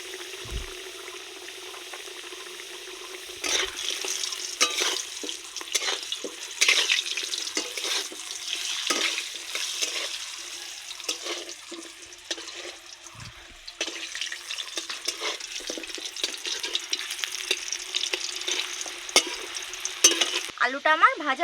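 Potatoes frying in a pan with turmeric and salt in a rustic village kitchen, a soft steady sizzle broken by occasional scrapes and stirs, fairly quiet and close, with no voices.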